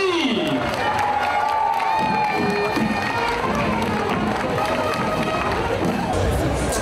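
A crowd at a town festival procession cheers, shouts and claps loudly for the crowning of the year's rosière in Moissac, a steady dense roar with voices and children's shouts mixed through it.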